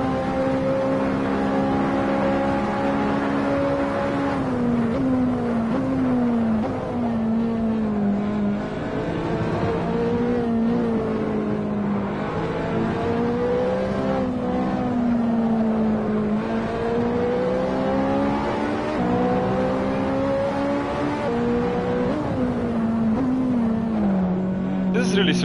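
McLaren race car engine in Assetto Corsa at Monza, a loud sustained engine drone rising and falling through gear changes, with someone talking over it.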